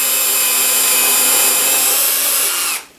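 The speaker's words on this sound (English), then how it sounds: "in goes the drill" A power drill whines at high speed, loud and close, boring steadily through wood for a few seconds before spinning down abruptly.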